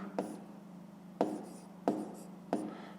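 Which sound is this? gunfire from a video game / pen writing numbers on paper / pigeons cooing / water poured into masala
pen writing numbers on paper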